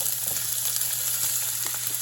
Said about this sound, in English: Okay, now we're gonna start frying the onions.